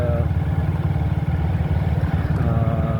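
Motorcycles ridden along a road near a temple fair in Khatima, their engines chugging with a steady low throbbing drone, close and fairly loud for the whole stretch.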